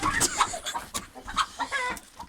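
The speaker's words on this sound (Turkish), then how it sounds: "Tavuklar buraya gelmiş." Several chickens cluck and squawk close by in a coop in quick, irregular bursts, a busy flurry of hen calls with no talking.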